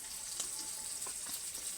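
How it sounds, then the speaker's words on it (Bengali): Bhetki fish fry in hot oil in a pan, giving a soft, steady sizzle with faint crackles and small pops throughout, heard close up with no talking. "মাছগুলো ভাজা হয়ে গেছে"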